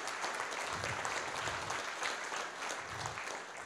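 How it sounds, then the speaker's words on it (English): A breakfast audience at a county energy event gives a round of applause, steady and fairly quiet, with many hands clapping evenly in a room and low murmurs mixed in. "Let's give them a round of applause as well."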